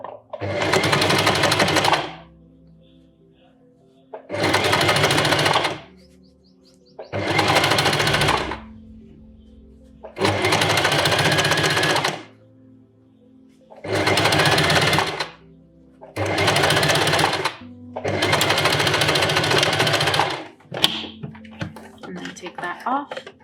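A sewing machine stitches a stretchy bias seam along a cut curve imitating a neckline, running in seven steady bursts of about two seconds each, separated by short pauses, with someone talking quietly between runs.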